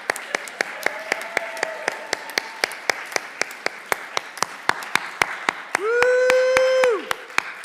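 Audience at a school gathering clapping in a steady rhythmic beat of sharp, evenly spaced claps, with a loud sustained whooping cheer rising over it near the end.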